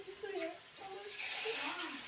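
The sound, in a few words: water poured into a pot of pasta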